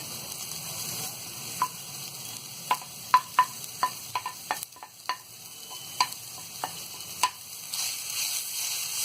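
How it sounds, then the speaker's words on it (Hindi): Shredded cabbage being stir-fried with carrots for vegetable noodles, a steady sizzle broken by sharp clinks and scrapes of a spatula against the pan at irregular intervals, close and clear with no talking. "पत्ता गोभी को भी हम अच्छी तरह चला के मिक्स कर देंगे"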